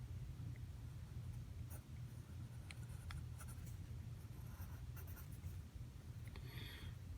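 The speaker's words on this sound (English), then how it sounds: "I'll draw some more tangent lines." Pen or marker drawing tangent lines on a surface during a math lesson, faint intermittent scratchy strokes over a low steady hum.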